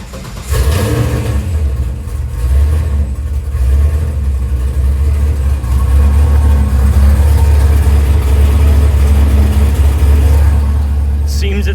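A Ford Sonoma pickup truck cranks and starts, then its engine settles into a loud, rough idle with rumbling low revs up close.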